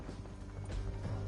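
Horse hooves clip-clopping at a run in the video game Red Dead Redemption 2, quick and fairly faint, with no talk over them.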